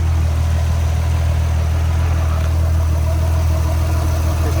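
A 2000 Nissan Skyline R34 engine idles smoothly and steadily, a loud, even low rumble with no fluctuation in revs and no voices.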